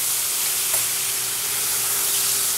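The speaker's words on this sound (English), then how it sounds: "And now I'm going to add about a tablespoon of soy sauce." A tablespoon of soy sauce hits a hot pan beside seared tuna, giving a steady, close sizzle and hiss of steam that carries on evenly throughout.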